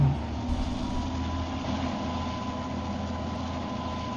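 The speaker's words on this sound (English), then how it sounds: "I do love the sound of the diesel engine though." A diesel locomotive engine in the train simulator game Trainz: A New Era idles with a steady, low rumble and a faint hum, continuous and unchanging throughout.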